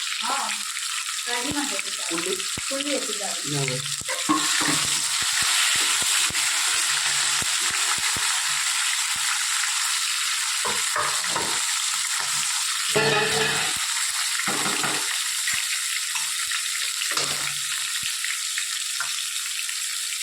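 Spices tempering in hot oil for puri shak, a steady bright sizzle throughout with bursts of crackling and stirring, loud and close.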